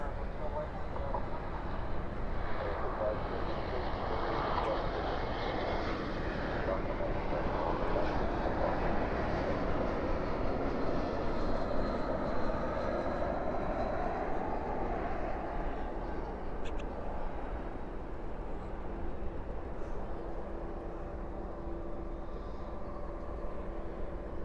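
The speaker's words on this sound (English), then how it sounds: "So again, this one's the Atlas Air flight off to Seoul," Atlas Air cargo plane departing on runway 18 left at DFW airport at night, a broad distant roar of jet engines building and holding steady, with voices talking underneath.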